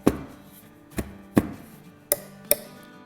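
A cake pan filled with batter knocked against a counter to settle it, giving five sharp, separate thuds with brief ringing tails, spaced unevenly over three seconds and close up.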